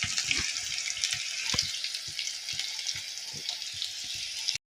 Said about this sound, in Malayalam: ഉള്ളി പച്ചമുളകും കൂടി ഇട്ടൊന്ന് വഴറ്റാം